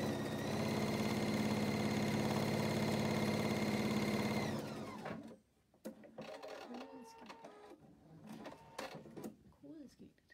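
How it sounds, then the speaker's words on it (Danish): A Pfaff Expression 710 sewing machine stitches between the ribs of elastic, running steadily and loud for about four and a half seconds before stopping, followed by quieter handling sounds. "Jeg syr imellem alle rillerne her i elastikken."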